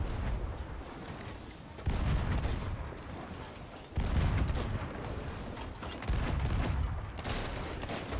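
Heavy ship cannon blasts ring out in the pirate game Sea of Thieves, three booming shots a couple of seconds apart, each a sudden loud thump with a long rumbling tail, and no speech over them.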